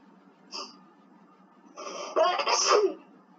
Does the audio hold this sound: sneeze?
yes